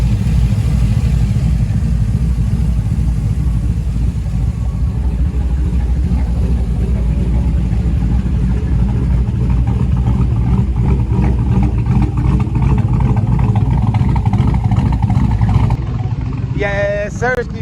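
A cammed 5.3 V8 in a Chevy Tahoe on 26-inch wheels, driving with a steady loud low rumble that drones on throughout before easing near the end, when a voice briefly comes in.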